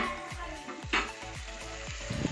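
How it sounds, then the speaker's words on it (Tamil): Tomatoes and onions sauté in a pan for mutton biryani, a steady close sizzle broken by a few regular scraping stirs and one brief louder clatter. "தக்காளி வெங்காயம் வதங்கி வந்துச்சு"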